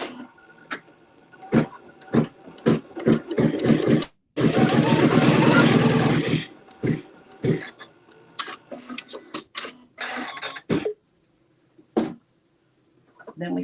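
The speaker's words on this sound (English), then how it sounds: "And now we'll stitch the seam." A sewing machine stitches a quilt seam in short rhythmic bursts, then one sustained run of several seconds, then more brief stops and starts, all close and clear with no talking over it.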